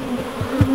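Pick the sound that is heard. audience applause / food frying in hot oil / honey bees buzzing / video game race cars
honey bees buzzing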